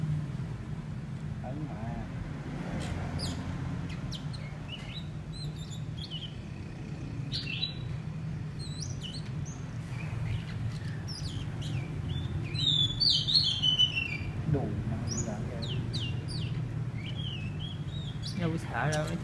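Baby birds, young white-rumped shama chicks, chirping in short high tweets that grow busier toward the end, over a low steady hum with people talking nearby.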